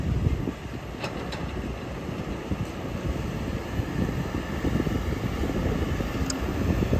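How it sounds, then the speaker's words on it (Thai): Strong wind buffets the microphone at a dug excavation pit with dump trucks around, a constant loud low rumble and roar with gusty swells throughout and a few faint high clicks. "ลมแรงมากครับวันนี้"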